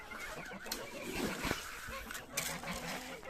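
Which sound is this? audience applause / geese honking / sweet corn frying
geese honking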